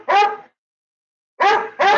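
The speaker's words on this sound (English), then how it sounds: "I've had enough of you barking at me." Three loud, close dog barks: one single bark, a pause, then two quick barks in a row, with no talking.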